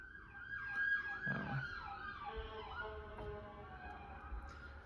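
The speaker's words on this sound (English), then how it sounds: "got an ambulance outside" Ambulance siren wailing outside, faint and distant, with its rising and falling tone repeating several times over a low background rumble.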